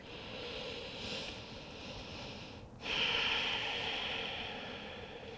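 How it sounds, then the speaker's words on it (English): Deep yoga breathing: a slow, breathy exhale followed by a brief pause and then a stronger, hissing inhale that carries on steadily, close and clear with no talking. "start to listen to the sound of your breath in a new way."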